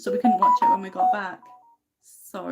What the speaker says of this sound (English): that's the phone notification